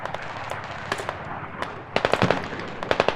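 Mortar rounds land in a Squad video game match as a run of sharp explosive cracks and thuds, a few scattered early and then a dense close volley near the end, over a steady low background rumble.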